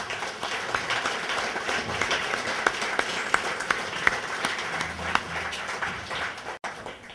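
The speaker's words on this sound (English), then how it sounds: "let's give a warm applause for" An audience at a farm rescue banquet claps steadily with a few sharper individual claps standing out, the applause continuing evenly before tapering slightly near the end.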